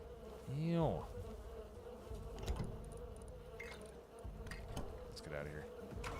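Bees in the survival game Rust give off a rising and falling insect buzz that swells loudly near the start, then fades and returns in brief bursts over steady game background sound.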